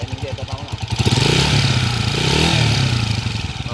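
A Honda TMX155 motorcycle engine converted to 210cc runs up close, rising from a low idle into a steady, buzzing rev and holding there, with a mechanical clatter underneath.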